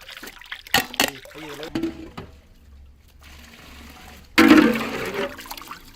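Homemade watermelon shake poured through a strainer, making a short close splashing, trickling gush near the end, after a stretch of quieter handling sounds and voices talking.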